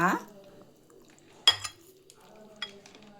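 Chicken being mixed with yogurt and garam masala in a pot: a few scattered spoon scrapes and clinks against metal, quiet and close, with a brief voice at the start.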